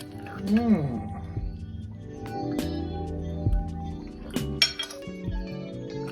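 A spoon scooping hash brown mixture into a bowl, with clinks and scrapes of metal against the dish sounding intermittently while a person talks over them.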